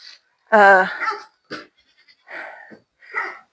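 A goat gives a loud, wavering bleat, followed by a few shorter, quieter goat calls close by, near a stock tank of water.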